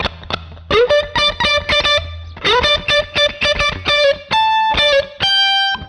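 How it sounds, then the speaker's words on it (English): Distorted electric guitar playing a riff of punchy notes, with several sustained notes bent a whole step upward in pitch. "this one we are bending a whole step"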